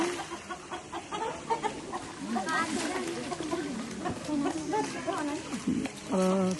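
Chickens cluck at a crowded Chhabdi temple in Nepal as devotees bring them for offering. Short, scattered clucks sit under continuous crowd chatter and people talking nearby.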